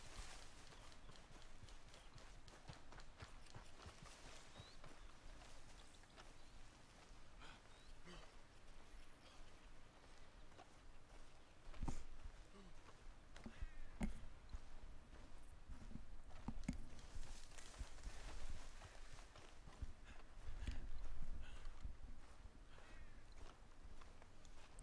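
Faint, rhythmic clip-clop of horse hooves walking at an even pace in the video game Red Dead Redemption II, buried in a low ambient wash with occasional soft thumps.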